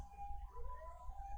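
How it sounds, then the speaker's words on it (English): Emergency vehicle sirens wail faintly from outside, a rising and falling tone passing at a distance, heard alone for a moment. "Oh, sorry about the sirens."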